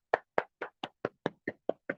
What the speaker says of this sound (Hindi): मेरी महागुरु माँ जी के लिए एक जोरदार तालियां चाहूंगी दोस्तों